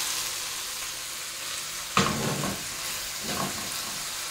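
Chicken breasts fry in a pan with a steady, close sizzle, broken by a couple of louder scraping stirs.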